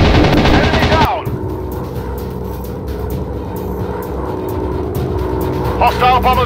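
Enemy aircraft machine-gun fire crackles in rapid bursts over a steady droning engine during a WW2 dogfight in a PC flight game; a loud opening passage gives way to rattling shots, with brief voices near the end.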